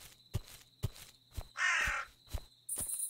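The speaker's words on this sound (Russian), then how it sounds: "Ворона тихонечко." Crow cawing in the survival game We Harvest Shadows, several short caws over a quiet ambient backdrop with rhythmic low thuds, followed by a brief hissing burst and a steady high tone at the end.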